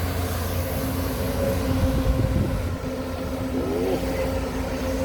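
A Mitsubishi engine drones steadily on excavators dredging a reservoir, a continuous low rumble without pauses and no talking.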